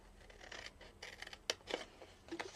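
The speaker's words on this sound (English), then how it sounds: "we're going to cut down here, and we're going to cut along, and I'm going to cut down here" Scissors cut through card in a quiet room, giving a few close, crisp snips and slicing strokes with soft rustling of the card between cuts, no talking.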